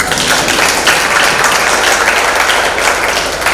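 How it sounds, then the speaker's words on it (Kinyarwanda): A church audience at the closing of a men's conference claps steadily, a dense, loud wash of applause that carries on for the whole stretch. "Mwongere mwiha amashyi cyane."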